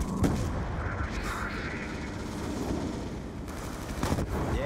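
Grenade explosions during a video game battle, heard as a dense run of booming blasts and rumbling gunfire-like bursts that stay loud and continuous throughout, with sharper impacts near the start and end.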